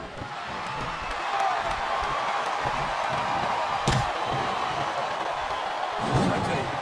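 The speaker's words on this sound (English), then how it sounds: "Listen to the crowd, JR." A wrestling arena crowd in the video game WWE SmackDown vs Raw 2007 keeps up a steady roar, with a few thuds from the ring.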